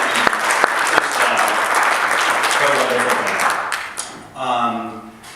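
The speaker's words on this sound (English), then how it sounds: "let's start out and give applause" Enthusiastic applause from an audience fills a room at the Salt Lake City Public Library, sustained clapping that gradually thins out before a final brief burst.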